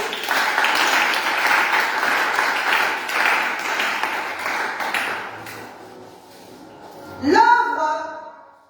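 A church congregation applauds and cheers in a dense, sustained roar of clapping and voices that gradually fades, followed by a bright ringing keyboard chord at the end.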